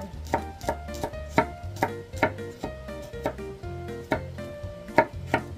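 Garlic cloves sliced with a knife on a cutting board, about a dozen crisp chopping knocks in a steady rhythm, close and clear, with no talking.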